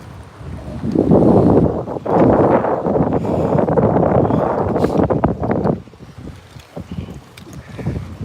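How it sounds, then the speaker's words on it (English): Strong wind buffeting the microphone out on a lake where a bass fishing boat sits among whitecaps, loud rumbling gusts for several seconds that then ease off. "Let's take a look out there where the wind is still blowing."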